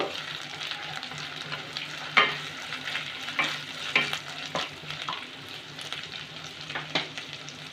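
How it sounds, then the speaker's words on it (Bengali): Green chillies and ginger being stirred in a frying pan for a Bengali doi potol posto dish, a soft sizzle broken by sharp spoon scrapes and taps against the pan. "আর চারটে কাঁচা লঙ্কা নিয়েছি আমি একটু চিড়ে নিয়েছি একটু নেড়ে নেব"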